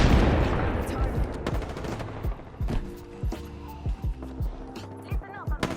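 Rapid gunfire from an Apex Legends match, with loud bursts and repeated sharp cracks through the first seconds, then spaced single shots and short volleys, all over a busy game soundscape.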